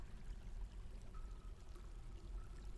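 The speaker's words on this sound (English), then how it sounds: "I like the dripping water sounds" Dripping and trickling water ambience from the video game Dwarf Fortress: a steady, soft wash of running water with faint drips, continuous and fairly quiet throughout.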